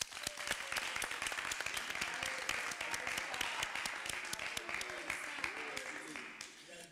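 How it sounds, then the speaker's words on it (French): A studio audience at a French TV show bursts into sustained applause, dense rapid clapping that fills the room evenly and slowly tapers, with no voices standing out. "on peut applaudir pour vous"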